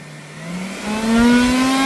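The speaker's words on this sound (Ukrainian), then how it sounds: "Беремо жуків, включаємо нашу дуєчку." A small handheld blower is switched on to blow Colorado potato beetles into a container: a close, loud motor whine rising steadily in pitch as it spins up over about two seconds.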